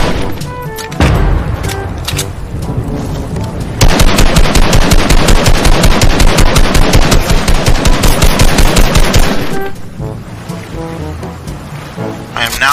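Rapid assault rifle fire in the video game Fortnite, loud and close, a long run of evenly spaced shots in the middle stretch, with scattered shots and game noise before and after.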